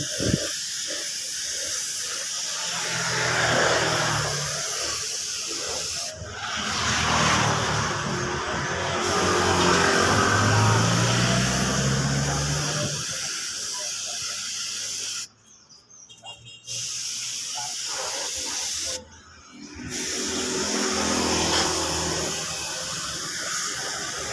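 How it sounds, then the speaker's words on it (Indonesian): A spray gun lays candy red paint onto Honda Beat motorcycle parts in long, steady hissing passes, with short silent breaks between bursts, close and fairly loud. "kita langsung semprot saja cat warna merah candy-nya"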